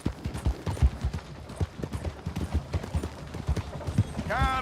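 A horse gallops in rapid rhythmic clip-clop hoofbeats in Red Dead Redemption 2, close and steady throughout, with a short whinny-like sound rising near the end.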